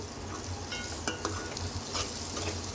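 Turmeric and ginger fry in oil in a pan for a spicy Kara Bondi curry while a spoon stirs through them, giving a steady close sizzle with a few light scrapes and clinks against the pan.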